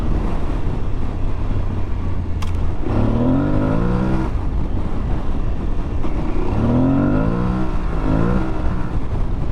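Aprilia Tuareg 660 motorcycle riding at speed, its engine droning loudly under steady wind roar and rising in pitch twice as it accelerates.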